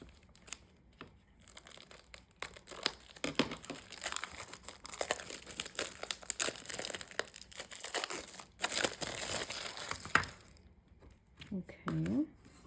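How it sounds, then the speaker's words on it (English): A plastic-packaged Dollar Tree Cricut craft blank is unwrapped by hand, giving close, busy crinkling and tearing of plastic that comes in bursts with brief pauses. "let me first take this out of its packaging"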